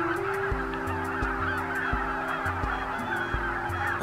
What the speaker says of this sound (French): je pense qu'on entend déjà le bruit des oiseaux derrière moi.